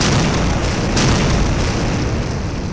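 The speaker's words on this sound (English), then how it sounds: "Flame and smoke erupt, but the blast does nothing but scorch the grass" A cartoon explosion rumbles loudly and keeps roaring for the whole stretch as flame and smoke burst over grass, a dense, sustained boom with a slight swell near the middle, no voices.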